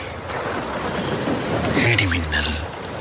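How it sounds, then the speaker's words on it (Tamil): Thunderstorm with heavy rain as a radio drama sound effect: a constant hiss of downpour with a deep rolling thunder rumble swelling near the end, loud and close. "இடிமின்னல்"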